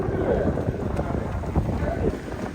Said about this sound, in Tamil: மழை பார்த்தீங்கன்னா நிற்கே இல்லை